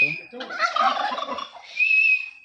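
A turkey gobbles loudly and close by in an outdoor setting in Odisha, a rapid rattling call followed by a second shorter burst, with whistling background tones.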